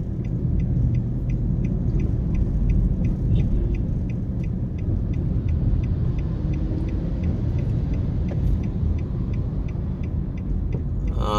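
A car drives along the Port Royal Street coastal revetment construction site downtown, its engine and tyres making a steady, loud road rumble throughout, with faint regular ticking above it and no voices.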